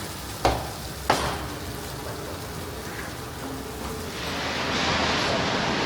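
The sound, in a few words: lamb fat sizzling while cooking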